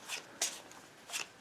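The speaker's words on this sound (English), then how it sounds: "I do have this little Lenormand deck handy. Let me shuffle real quick." A small Lenormand card deck being shuffled by hand, with crisp riffling bursts recurring several times at close range and no talking.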